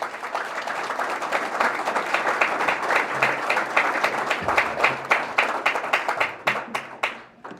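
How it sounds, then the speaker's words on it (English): Audience applause for a panel at an energy briefing, many hands clapping in a full, steady round that thins into a few louder, separate claps before fading at the end. "Please, let's give this panel a round of applause."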